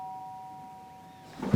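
A doorbell chimes in a family home, a clear sustained two-tone ring that fades out before rustling and movement noise pick up at the very end.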